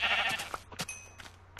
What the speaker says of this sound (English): There's a little sheep right there.